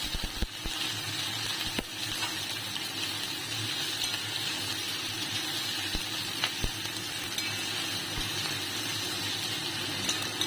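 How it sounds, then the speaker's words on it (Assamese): Chopped onions frying in oil with bay leaf in an iron wok keep up a steady, dense sizzle and crackle, close and continuous, with a few sharp spatters and occasional clinks of stirring. "আৰু এতিয়া কাটি ৰখা পিঁয়াজখিনি তেজপাত দিয়াৰ পিছতে ইয়াতে দি দিলোঁ।"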